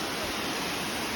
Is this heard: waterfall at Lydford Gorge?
yes